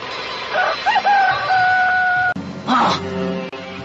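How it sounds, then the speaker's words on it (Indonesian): A rooster's crow at daybreak, one loud, close, drawn-out cock-a-doodle-doo followed by a shorter strained call, heard in a dramatized rural setting. "Suara ayam berkokok."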